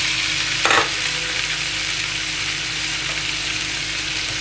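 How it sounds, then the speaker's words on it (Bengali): Snake gourd frying in a pan with garlic and chili gives a steady, dense sizzle throughout, with a brief clatter near the start as the gourd goes in, close and loud with no voices. "যখনই এটা ভাজা ভাজা হয়ে যাবে, তখনই এর মধ্যে এই চিচিঙ্গাটা ঢেলে দিলাম।"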